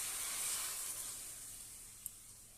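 Water poured into a hot pan of frying bottle gourd greens with salt, turmeric and green chillies, giving a loud hiss of sizzling that fades slowly and ends in a single small pop.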